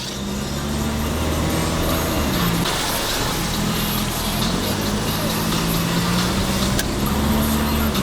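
Cheap, worn old car driving at about 40 mph with loose steering and poor suspension: loud continuous road and engine roar with rumbling tire noise filling the cabin, steady throughout.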